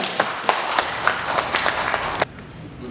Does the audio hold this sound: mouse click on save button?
no